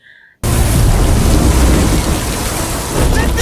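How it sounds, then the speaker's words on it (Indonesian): A thunderstorm with heavy rain at sea roars in loud and dense after a brief quiet start, with a constant wash of rain and deep rumbling beneath it. "Kapal mereka malah memasuki area yang terjadi badai."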